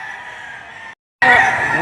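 A rooster crows loudly and close at the Padre Garcia livestock auction market in Batangas, two strained bursts separated by a short silent gap.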